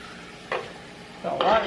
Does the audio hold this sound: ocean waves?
no